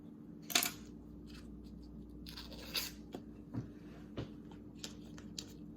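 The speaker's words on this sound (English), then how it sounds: "So we're going to cut it in half." A knife cuts through a cold, fridge-fresh stick of Kerrygold Irish butter, giving a few soft, close crunching and tapping sounds spread across a quiet kitchen background.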